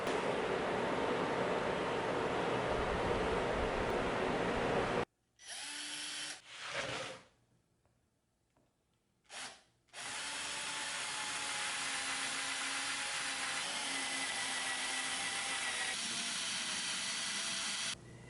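A power drill bores holes into a wooden creeper board in a home garage shop, a loud close continuous whine for about five seconds, a pause with short bursts, then a long sustained run.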